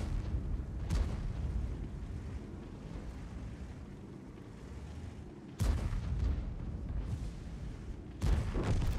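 Kranvagn tank cannon shots boom twice in the World of Tanks video game, each a loud, abrupt blast standing out against a constant low rumble, with an earlier softer thump.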